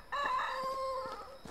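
A rooster crows in the farm game Medieval Dynasty, a single drawn-out cock-a-doodle-doo close and clear, alone with no talk.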